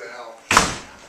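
A door is pushed open as someone walks into a club pre-show party, giving a sudden thudding knock that rings out briefly over low background chatter and room noise.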